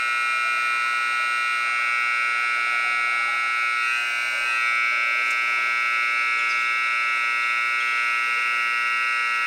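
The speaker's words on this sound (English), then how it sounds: "And now the buzzer is going to keep going." A basketball gym's buzzer drones on continuously, a loud, steady electric tone that never breaks, with faint gym noise underneath.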